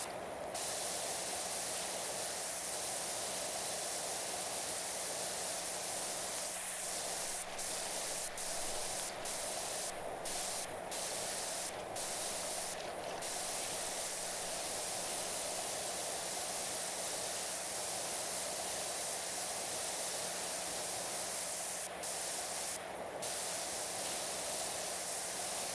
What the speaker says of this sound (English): we're still able to spray some of this off